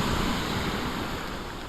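Big waves roll in at Narragansett Bay on a windy day, making a loud, steady roar of surf and wind with no distinct breaks.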